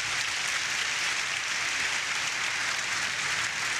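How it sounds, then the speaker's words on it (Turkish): Audience applause in a studio talk show, a steady, continuous patter of many hands clapping at moderate distance, evenly sustained with no voices over it. "Siz de alkışlarınızdan notunuzu vereceksiniz."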